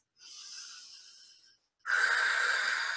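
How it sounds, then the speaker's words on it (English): Two deep breaths into the lower belly, each a long airy, breathy rush. The first is softer and fades out, and after a short pause a louder, fuller breath follows close to the mic. "take some really deep breaths into the lower body"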